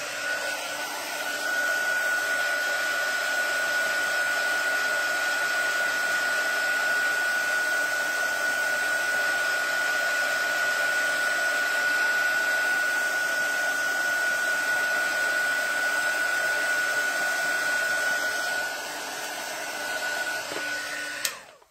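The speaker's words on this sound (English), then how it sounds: "we're going to hit this with the heat tool." Heat tool blowing hot air over a craft surface, a steady close whining hum that holds without a break for about twenty seconds before it shuts off.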